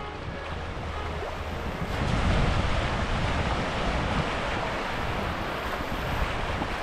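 Strong wind sweeps across Playa de Sotavento beach on Fuerteventura, a continuous loud roar buffeting the microphone and building slightly after the first two seconds, with surf blended beneath it.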